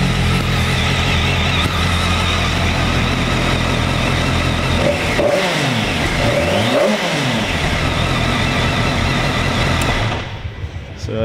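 A 2007 BMW K1200S sport bike idles with a steady hum, then revs twice in quick succession, each rise and fall clearly heard up close, before the engine cuts out near the end.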